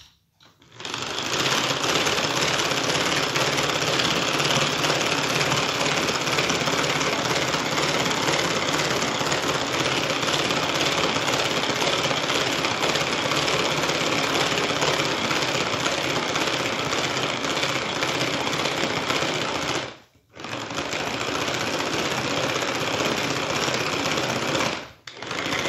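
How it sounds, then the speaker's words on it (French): A Speedy Chef 2 food processor whips cream at speed 1 with a loud, continuous motor whir. It runs for about twenty seconds, stops briefly, then starts again. "On va le monter dans le Speedy Chef 2. Voilà. Et on va mettre vitesse 1."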